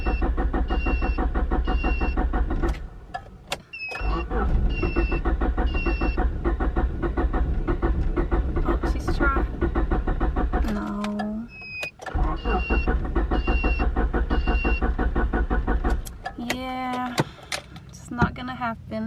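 A B16-swapped Honda CRX Si cranks repeatedly without catching, its starter whirring in long loud bursts separated by brief pauses, with whining squeals and a voice speaking up near the end.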